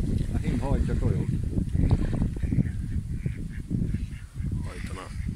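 Ducks call repeatedly from open water on a windy spring day, with a drake chasing a hen; steady honking and quacking notes sit under a constant rush of wind, fairly close and loud.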